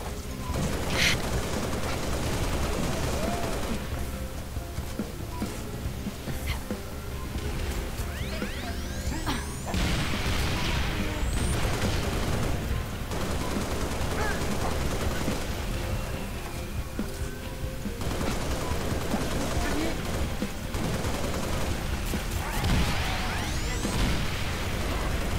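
Anti-material rifle fire and battle noise in the video game Halo Reach: heavy shots, crashes and whooshing effects over a dense, continuous game soundscape, with no talking.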